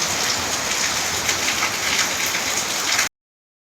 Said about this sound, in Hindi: एत जोर वर्षा